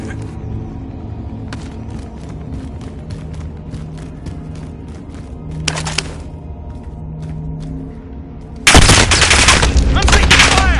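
Gunfire in Call of Duty Warzone, with repeated sharp cracks and bursts over a low rumbling game backdrop, ending in a loud, dense barrage of shots up close.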